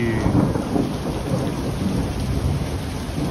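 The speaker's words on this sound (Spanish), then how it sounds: "Thunderstorm." Heavy rain pours steadily at a country house during an August storm while low thunder rumbles close by throughout, loud and continuous with no voices.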